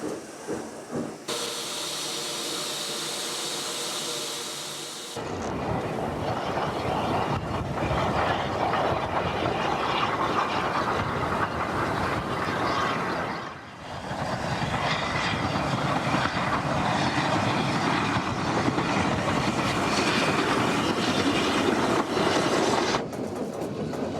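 A British 0-6-0 austerity tank steam locomotive running, with loud continuous chuffing, hissing steam and clattering wheels that persist for a long stretch after an opening hiss.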